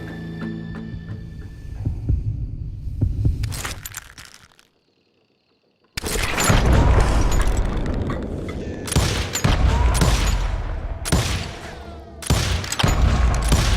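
Gunfire during a duel in the video game Call of Juarez, several loud booming shots and bursts, separated by a brief silent gap, over a low throbbing hum and heartbeat-like pulses from the game.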